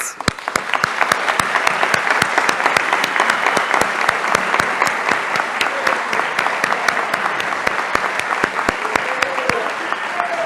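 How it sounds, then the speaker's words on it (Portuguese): A studio audience at a 2018 Rio de Janeiro governor election debate applauds continuously, with dense, steady clapping at an even intensity throughout. "só depois dos aplausos para os debatedores"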